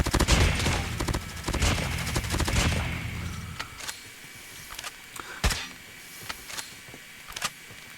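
Rapid automatic bursts from a RUS-79U rifle in a ranked shooter game, a dense sustained volley for the first few seconds, then scattered sharp single shots and short clicks at moderate loudness.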